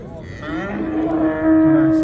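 A cow moos long and loud at a livestock market in Rishton, one drawn-out, rising call close by with no speech.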